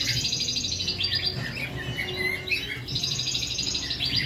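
Canaries singing close by in a steady stream of bright, rapid trills and chirps, with two dense bursts of song framing a busier middle stretch over faint room noise.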